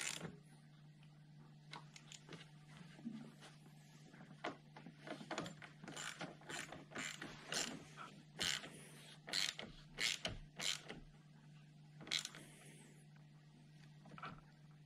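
A ratchet clicks in irregular bursts while a Skoda Karoq battery is refitted, close metallic pawl ratcheting with pauses between strokes over a low steady hum.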